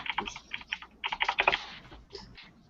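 Someone types quickly on a DOS computer keyboard, keys clacking in uneven bursts close by, with a short pause before a final keystroke and no talking.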